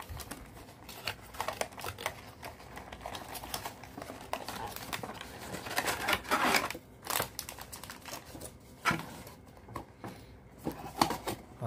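Hands open a Lotte bear crystal ball toy box, with close, quiet crinkling of packaging and plastic, taps and brief rustles in an irregular rhythm, and no talk over it.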